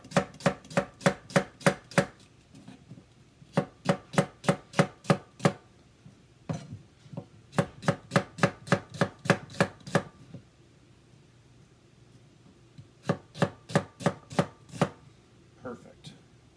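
A knife slices through peeled onions on a cutting board with their root ends trimmed off, in quick rhythmic runs of crisp chops separated by short pauses, close and clear with no talking.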